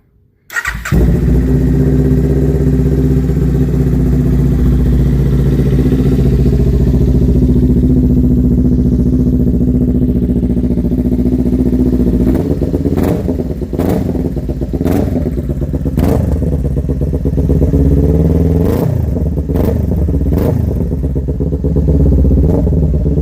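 A 2019 Kawasaki Ninja fitted with a Two Brothers Racing S1R Black Series full exhaust fires up and settles into a loud, steady idle nearby, followed by several sharp throttle blips and revs.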